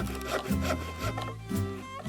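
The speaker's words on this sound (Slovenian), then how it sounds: "So žagali, brusili, dolbli, rezali, zvijali." Wood being sawn and filed by hand, heard as repeated back-and-forth rasping strokes in a steady rhythm, close and moderately loud, with no voices.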